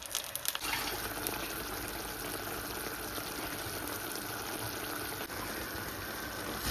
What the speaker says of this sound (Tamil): கொஞ்சமாக தண்ணி விட்டு முருங்கைக்காய் அவிப்போம்